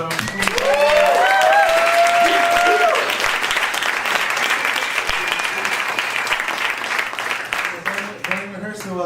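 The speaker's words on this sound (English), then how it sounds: "give another round of applause for" A crowd at a live freestyle music show breaks into loud applause with cheers and a whistle-like shout at first, then the clapping gradually thins out as a voice speaks.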